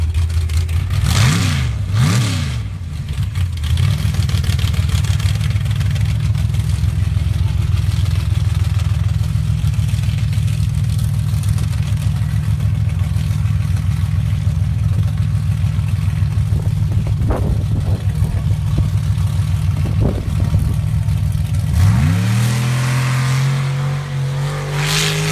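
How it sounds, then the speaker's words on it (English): An old Chevy pickup, number 118, roars down the drag strip at the Avenal Fall Nationals, its loud engine revving hard and droning steadily near before pitching up and fading as it pulls away. "The old 118 Chevy pickup."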